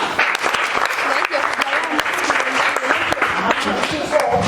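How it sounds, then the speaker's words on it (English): Students in a secondary-school English class clap for a classmate, dense continuous applause with sharp individual hand claps throughout, loud and close. "Can you please clap for her?"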